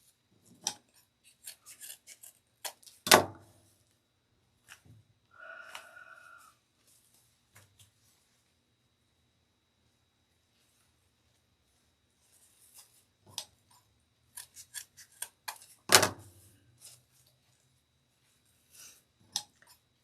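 Two sharp scissor snips through deco mesh stand out, with softer rustling and scattered clicks of the mesh being handled between them, and long quiet gaps.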